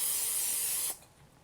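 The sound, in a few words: cooking spray sprayed onto baking pan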